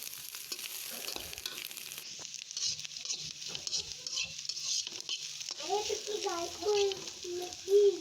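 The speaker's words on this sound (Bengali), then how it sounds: "যাতে চিংড়িটা আর পেঁয়াজটা মচমচা একসাথে ভাজা হয়ে যায়।" Prawns and onions fry together in a pan with a steady crackling sizzle and some stirring, the frying growing louder and busier toward the end.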